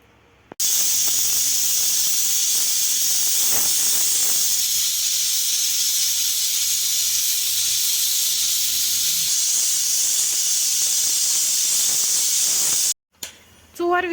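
A pressure cooker on a mud stove, cooking rajma, lets out a loud, steady hiss of escaping steam for about twelve seconds before it cuts off abruptly, with faint clatter underneath.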